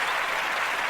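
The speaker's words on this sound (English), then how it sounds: "Let's give her a round of applause." Loud, thick applause from a standing audience greeting a punk rock frontwoman, a brief unbroken roar of clapping close up and alone.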